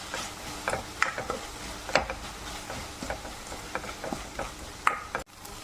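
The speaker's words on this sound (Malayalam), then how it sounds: "കുറച്ച് കരിയാപ്പിലയും കൂടി ഇട്ടിട്ട് നല്ലോണം ഒന്ന് വഴറ്റിയെടുക്കാം" Sliced onions and curry leaves being sautéed in a pan for Kerala-style pork fry, with a soft, steady sizzle under repeated scraping and stirring of a spatula against the pan.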